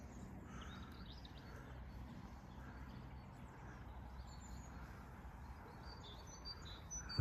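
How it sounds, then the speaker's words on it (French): Faint birdsong with scattered chirps drifts over a steady outdoor background hiss, distant and quiet throughout, near an old bridge at a campervan stop in Thouars, France. "Qu'est-ce que c'est agréable d'entendre les oiseaux comme ça"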